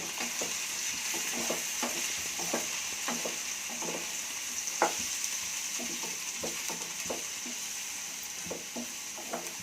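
Vegetable curry of eggplant, tomato and potato sizzling steadily in a pan after coriander powder is added, with a spoon scraping and stirring in regular strokes throughout.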